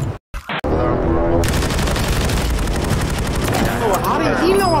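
Dense, loud automatic gunfire from the Call of Duty game rattles almost continuously after a couple of brief opening bursts, with players talking over the shooting.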